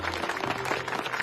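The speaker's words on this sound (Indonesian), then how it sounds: "Mana tepuk tangannya?" A classroom of students claps together on the first day back at school, a steady, even patter of many hands close by with faint voices mixed underneath.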